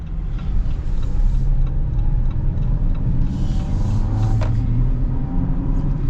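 Steady road rumble and engine drone fill the cabin of a 2025 Jeep Compass Trailhawk while it drives, a constant low roar with a few faint ticks and clunks and no talk.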